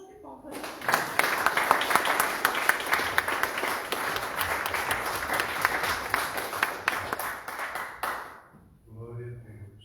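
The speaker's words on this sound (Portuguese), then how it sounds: "dá uma salva de palmas" A church congregation claps in steady, lively applause for about eight seconds, dense and fairly loud, before it fades and a voice speaks.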